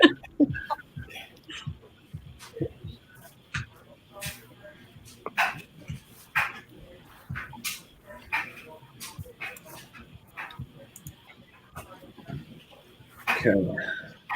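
A dog makes repeated short yips, whimpers and barks close by, scattered across the stretch while people talk in a casual indoor setting.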